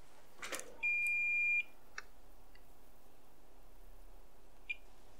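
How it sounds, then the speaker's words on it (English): A multimeter gives a short, steady continuity beep while probing lines on an iPhone 13 motherboard during repair, with a few faint clicks from the probes in an otherwise quiet room. "So I'll take my multimeter and measure the different lines."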